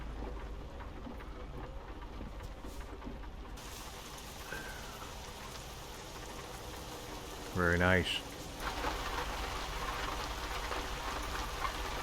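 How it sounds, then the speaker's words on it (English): Steady rain from the American Truck Simulator game, a continuous hiss across the whole stretch with a brief louder burst near the middle, and someone speaking briefly over it. "That rain sounds real good."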